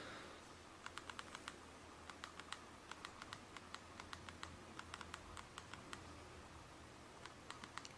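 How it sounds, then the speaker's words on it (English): Typing on a BlackBerry Storm 2 touchscreen produces quick, faint, irregular clicks in short bursts over a soft background hiss. "So we'll type a simple message"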